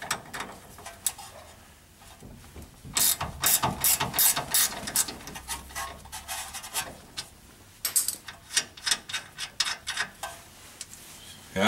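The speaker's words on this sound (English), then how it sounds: "just unbolt the top of the hub here" A hand ratchet unbolts the upper hub bolts on a Mazda RX7 FD3S during differential work, with quick bursts of close, crisp clicking that come in rapid runs separated by short pauses.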